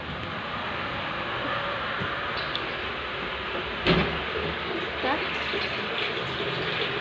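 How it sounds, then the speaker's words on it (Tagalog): Water runs steadily from a tap into a container in a bathroom, a continuous hissing splash with a brief knock or bump near the middle, no talk. "pinupuno na tubig sa CR."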